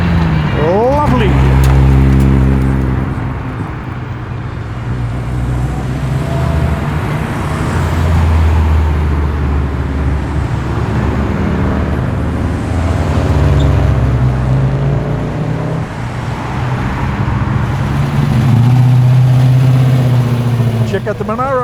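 Modified cars leaving a car show in Penrith rumble and rev as they pull away one after another, loud engine swells rising and fading with people talking and calling out nearby.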